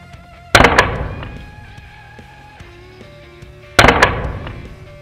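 Arcturus Vanguard Hi-Capa airsoft pistol firing twice with blowback, each shot a loud sharp crack and slide clack about three seconds apart, with metallic ringing and quiet handling in between.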